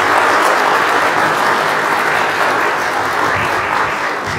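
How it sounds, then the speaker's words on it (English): A church congregation claps in warm, steady applause, a full, dense wash of many hands held at constant strength from start to finish, with no speech. "Shall we receive her with our applause?"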